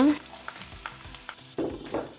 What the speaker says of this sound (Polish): i smażymy aż nam się zrumieni.